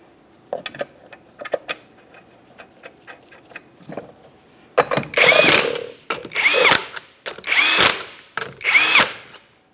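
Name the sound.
power tool running 19 mm lug nuts onto a car wheel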